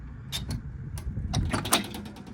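A 1964 Ford Galaxie 500 door opening up close: a series of sharp metallic clicks and latch clacks, then a cluster of quick mechanical rattles as the door releases and swings, with no talking over it.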